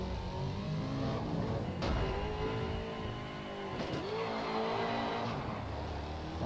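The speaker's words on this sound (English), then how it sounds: "Going over the first jump in my car." In the Grid Racedriver demolition derby video game, a car engine revs hard going over a jump, a continuous loud engine roar that dips and climbs in pitch as the car lands and accelerates, with no talk.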